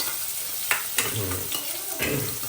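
Mustard seeds and onion hit hot oil, giving a steady sizzle marked by a few sharp crackles and spatters at irregular intervals.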